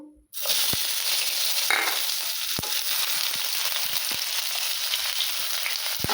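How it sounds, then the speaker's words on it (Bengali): Chopped onion hits hot oil in a wok and sizzles loudly and steadily, with occasional soft knocks of stirring close by. "তেল গরম হয়ে গেছে, আমি এবার এই পেঁয়াজ কুচি দিয়েছি আমার"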